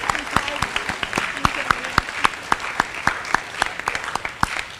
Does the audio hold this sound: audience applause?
yes